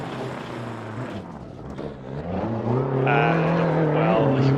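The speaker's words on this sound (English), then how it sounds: "here we have Ian, the reigning champion of our Yugoslav series, with the Lancia Delta, still on stage 2. Very fine driving." A Lancia Delta rally car on a special stage of the Rajd Rzeszowski, Eastern European Rally Championship round, its engine note dipping and then climbing loudly as it accelerates, building to a strong, sustained roar.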